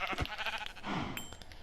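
A sheep in the video game Minecraft bleats in a short, close, wavering cry, followed by a faint chime.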